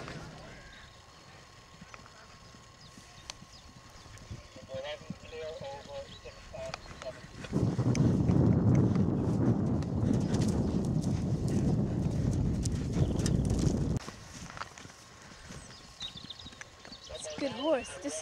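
Hoofbeats clatter in a dense burst for several seconds in the middle, as horses gallop past fairly close at a gate-jumping event in Ballymacad; talking and background sounds come before and after.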